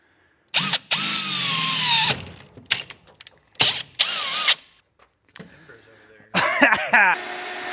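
Power drill boring holes during the install of an orange bench vise, in several loud whining bursts of one to two seconds separated by pauses, the motor pitch sagging under load, with brief clatter between runs.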